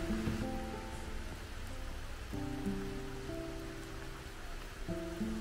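Rain falls steadily on the grounds of Isasumi Shrine in Aizu, a soft, constant patter heard alone with no voices.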